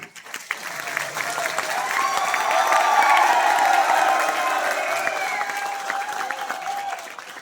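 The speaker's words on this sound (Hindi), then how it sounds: "संजय के लिए 3 ताली" A seated crowd at a motivational talk breaks into sustained applause, rising to a loud peak midway with a few cheers and whoops mixed in before easing slightly.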